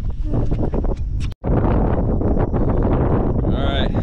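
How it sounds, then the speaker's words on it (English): Wind gusting across a small bowfishing boat on open water, a steady broadband rush buffeting the microphone throughout, briefly cut out once, with voices talking over it. "The wind kind of picked up."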